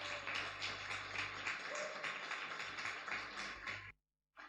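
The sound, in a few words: audience applause in church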